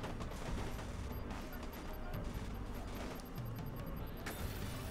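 Enemy gunfire in the video game Watch Dogs, a dense, continuous barrage of rapid shots and impacts from around ten attackers firing at a van used as cover, loud and unbroken throughout.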